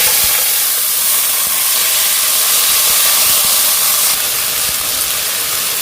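Onion and tomato sizzle in hot oil in a pan with asafoetida and curry leaves, a loud, steady, close hiss that carries on evenly without pause.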